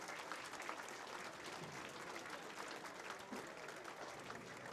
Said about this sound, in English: Let's give a round of applause to the Ashwaubenon Bowling Alley for hosting this event all weekend long.